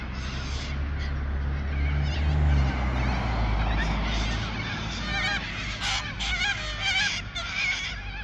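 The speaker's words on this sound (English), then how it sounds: "That's one cockatoo saying to the other cockatoo," Cockatoos calling nearby, a series of loud, harsh squawks and screeches over a low rumbling background hum, several overlapping in the second half.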